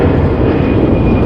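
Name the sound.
airplane taking off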